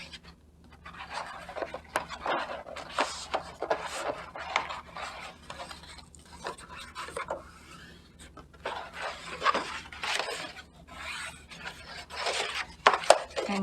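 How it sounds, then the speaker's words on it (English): Paper edges being folded and creased for a Sankt Martin's lantern craft, giving soft scratchy rubbing strokes in irregular bursts, close and fairly quiet. "So I can fold all my edges."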